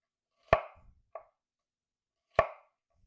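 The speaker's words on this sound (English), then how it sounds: "we're gonna cut the onions the same time or same way we did in the last video" Knife chopping onions on a cutting board while prepping Philly cheesesteaks: two sharp, close knocks and one lighter tap, spaced a second or more apart, in an otherwise quiet kitchen.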